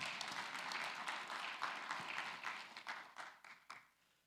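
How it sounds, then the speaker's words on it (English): Congregation applauding during a Sunday church sermon, a soft, moderately distant patter of many hands clapping that thins out and fades over a few seconds. "give a round of applause for that"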